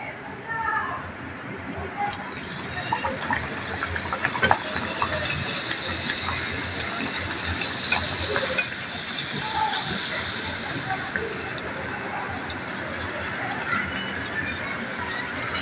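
Lentil kachori sizzle and hiss steadily in hot oil in a Bengali home kitchen, a continuous bubbling frying noise heard close up while someone talks over it.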